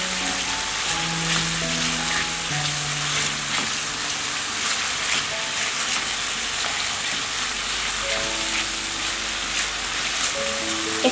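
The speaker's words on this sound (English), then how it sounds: "And again we'll fry for more" Masala frying steadily in a pan for tandoori chicken do pyaza, a dense continuous sizzle like light rain, close and even throughout with faint stirring and no talk.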